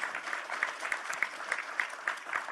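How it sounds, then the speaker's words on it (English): Audience applause in a room at a political speech in Toronto on Canada-U.S. relations: dense, fairly quiet clapping from a crowd, with a series of rhythmic sharper claps pulsing through. "I think you get applause on that one."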